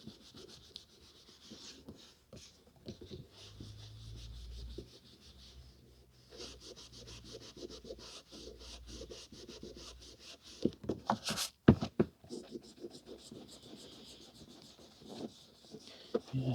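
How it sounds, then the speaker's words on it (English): Cloth rubbing and polishing the covers of vintage Pelican paperback books, a soft steady scrubbing close up with brief handling knocks and page rustles, no voices. "a lot of that gunk does come off with a bit of polish"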